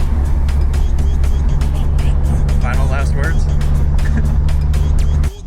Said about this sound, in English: car's driving super good so far